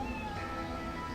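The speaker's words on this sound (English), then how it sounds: "there's a cat over there" A cat meows in the video game Lost Odyssey, a sustained tonal call lasting about a second over a dense, steady game soundscape.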